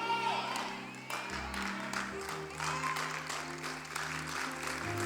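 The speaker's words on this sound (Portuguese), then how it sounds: "se vai aplaudir, aplaude maneiro, vai, forte." A church congregation applauds during a sermon, a moderate wash of clapping with some cheering, lasting about five seconds over a low sustained organ or keyboard tone.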